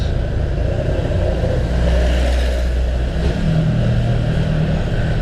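Engine rumble of a Honda PCX 150 scooter crawling through a long road traffic jam caused by roadworks, steady low drone with nearby car and truck engines idling and revving, continuous and fairly loud.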